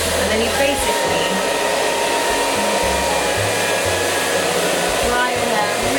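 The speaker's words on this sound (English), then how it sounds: "when the hairdryer heats this up, it makes your hair a little bit curlier" A hair dryer blows steadily and loudly at close range while hair is dried with a brush, a continuous even whoosh with no break.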